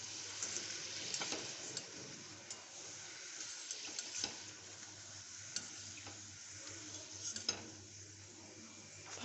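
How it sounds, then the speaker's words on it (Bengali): Bitter gourd chips frying in hot oil in a pan, with a steady, soft sizzle and occasional light scrapes and taps as they are stirred and turned. "এইভাবে নেড়ে চেড়ে ভালো করে লাল লাল করে আমি উচ্ছেগুলোকে ভেজে নেব"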